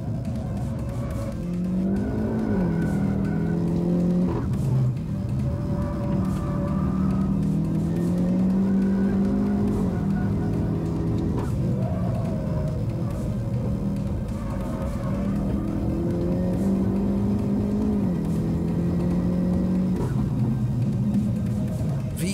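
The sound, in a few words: tuned Hyundai i30 N accelerating on race track lap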